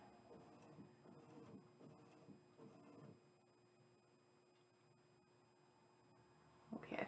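A printer runs in four short mechanical bursts with brief pauses between them, followed by several seconds of near quiet and a sharp clunk at the end.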